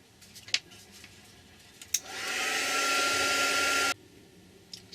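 A hair dryer blows steadily for about two seconds while drying a handmade Christmas card. Close and loud, it starts abruptly and cuts off sharply, with a few small taps and clicks before and after.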